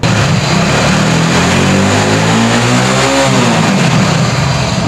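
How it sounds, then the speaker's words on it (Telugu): A motorcycle engine held at high RPM after a carbon-cleaning additive is injected; a loud, continuous close-up roar whose pitch climbs near the middle and then eases back, with no voices. "మనం ఇంజెక్ట్ చేసినప్పుడు బైక్ ఆర్పిఎం కూడా ఎక్కువ ఉండాలి"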